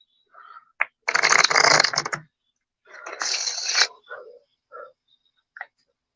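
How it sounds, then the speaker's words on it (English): Two bursts of riffling playing cards being shuffled up close, separated by a pause and followed by a few soft taps and handling sounds. "Then shuffle the cards."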